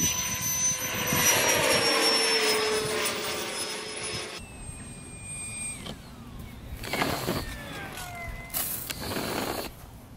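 An EDF jet-powered model glider streaks past with a loud, high whine for several seconds, then recedes into fainter whistling swoops that drop in pitch as it flies off into the distance.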